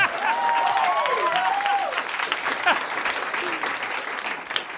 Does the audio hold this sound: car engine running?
no